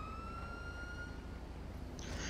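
An ambulance siren in the GTA V video game holds a steady wailing tone over a constant low rumble, then a brief burst of noise cuts in near the end.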